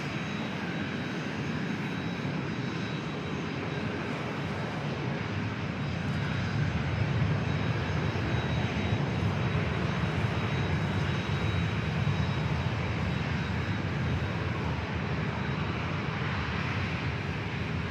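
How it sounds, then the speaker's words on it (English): A small corporate jet takes off at San Diego airport, a steady broadband engine roar heard from a distance, constant and moderately loud for nearly twenty seconds with no talking. "We got a little corporate jet up next for takeoff."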